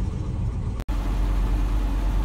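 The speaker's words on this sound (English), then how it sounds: "if you can hear me over the noisy great big engine" A Land Rover 90's V8 engine idles with a steady, loud, low rumble heard from close by, broken once by a very brief dropout in the sound.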